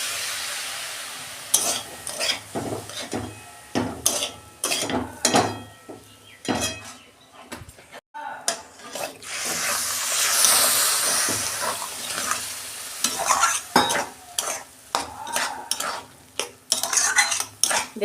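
Semolina upma being stirred with a little water in a pan, a steady scraping and clinking of a spoon against metal with soft sizzling, several bursts of rapid strokes close by and loud, no talk.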